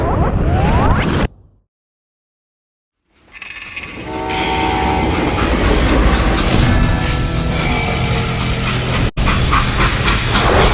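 A train rolls steadily along its rails in the Western video game Call of Juarez Gunslinger, a continuous loud rumble with a horn-like tone, cutting to silence briefly before the clatter resumes and holds.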